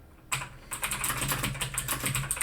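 Rapid, continuous typing on a computer keyboard, close and fairly loud, with dense irregular key clicks starting after a brief quiet moment and running steadily with no voices.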